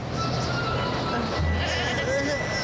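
Goats bleat in a Supa Strikas cartoon episode, a few wavering cries mixed into a busy soundtrack with other sound effects underneath.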